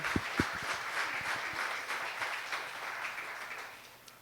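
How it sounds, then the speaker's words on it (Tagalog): A church congregation claps steadily in sustained applause, a dense patter of hands that fades slightly toward the end. "Malakas sa palakpak sa Panginoon."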